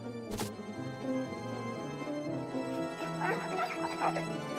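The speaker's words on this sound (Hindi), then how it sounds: "टीटू, तुम ये कुत्ता कहाँ से लाए" A cartoon dog yips and whimpers in a Titoo animated episode, a short bark near the start, then fainter whines over steady background music and sound effects.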